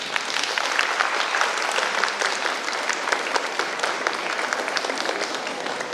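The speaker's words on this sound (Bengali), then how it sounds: "করতালি দিয়ে দেওয়া হোক" A school Christmas event audience at Carmel School, Sarangabad gives a dense, steady round of applause from many hands, even and sustained throughout, with no talk over it.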